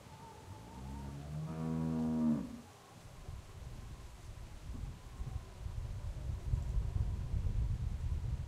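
A cow in The Walking Dead video game gives one long, loud, near moo for about two seconds and then stops, leaving steady low outdoor ambience.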